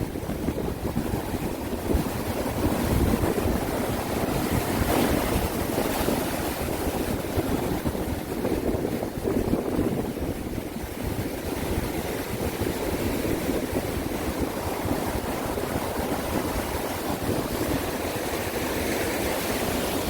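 Large ocean waves roll in against rocky shore at Yeonggeumjeong near Dongmyeong Harbor, a continuous loud roar of surf and crashing water mixed with steady wind buffeting the microphone, with no voices throughout.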